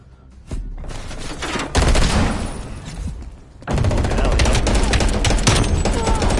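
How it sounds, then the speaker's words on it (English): Video game gunfire in a tournament match: dense, rapid automatic bursts and volleys, loud and close, coming in several sustained stretches with brief lulls between them. "They're firing around corners and everything"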